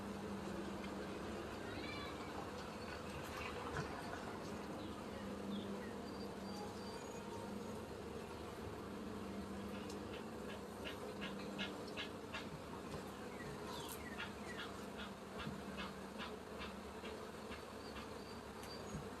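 Honey bees drone in a low, continuous buzz around an open hive during an inspection on a farm, with a speaker talking softly at times and a string of faint clicks and taps near the end.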